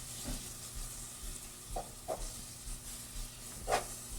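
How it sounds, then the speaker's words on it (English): Butter and chocolate melting in a pot are stirred with a spoon, giving a soft sizzle and several faint scraping strokes against the pot, quiet and close. "You want to stir because you do not want to burn the chocolate."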